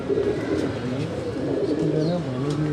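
A pigeon on a Karachi rooftop coos in low, drawn-out throaty tones, repeated close by and fairly loud, with faint background chatter.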